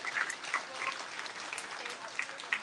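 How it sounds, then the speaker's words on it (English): Applause at a 2020 swine show honoring seven junior showmen, a soft, steady patter of clapping from a crowd heard faintly at a distance for a few seconds. "let's give all 7 a round of applause for a great effort"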